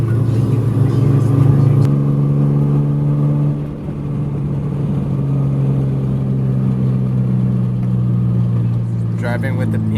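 A Nissan 720 pickup fitted with a swapped KA24DE engine drones steadily while driving, a loud, continuous mid-pitched engine note that dips briefly partway through, with people talking inside the cab.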